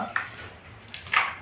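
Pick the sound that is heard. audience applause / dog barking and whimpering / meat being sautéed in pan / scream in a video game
dog barking and whimpering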